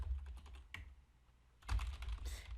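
A password is typed on a computer keyboard in quick, light clicks that come in two short bursts separated by a pause, close and fairly quiet.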